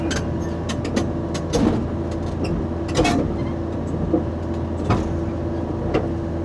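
An excavator tracks backwards up onto a large new trailer, its steady engine drone and low rumble continuous throughout with intermittent metallic clanks and squeaks from the tracks.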